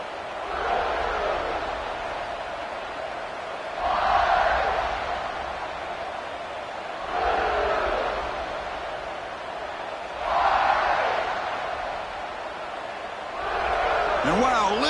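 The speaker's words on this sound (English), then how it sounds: "listen to this crowd noise. This stadium is vibrating." Stadium crowd at an NCAA college football game during a kickoff return, a loud, sustained roar that swells in repeated waves, with a commentator talking over it.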